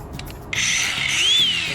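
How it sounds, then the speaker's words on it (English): An angle grinder with a cutoff wheel spins up partway through, a steady high whine with a rising pitch that holds close and loud, following a few quiet clicks. "got my grinder with my hobo freight wheels on it"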